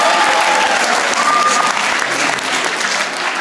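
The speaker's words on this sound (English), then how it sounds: "Give him a nice round of applause." Audience at a college comedy showcase applauding, a dense, even wash of clapping that stays loud from start to finish with faint voices underneath.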